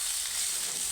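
Bitter gourd slices fry in a pan, giving a soft, continuous sizzling hiss that stays quiet and even for a brief moment.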